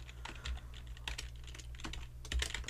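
Typing on a computer keyboard while entering text in Premiere Pro: quiet, close clusters of quick key clicks in irregular bursts, with no talking.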